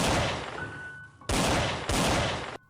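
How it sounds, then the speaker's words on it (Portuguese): Two loud gunshot blasts from a police chief's firearm aimed at a werewolf, each a sharp burst followed by a long decaying rumble, the second about a second and a half after the first. "o delegado mira a sua arma na cabeça da fera e atira"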